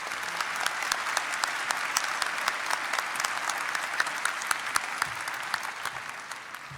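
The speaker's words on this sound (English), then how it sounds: "Another round of applause for Dr." Commencement audience at an Iowa State University ceremony applauds an honorary degree recipient, steady dense clapping filling the hall for about seven seconds before beginning to taper.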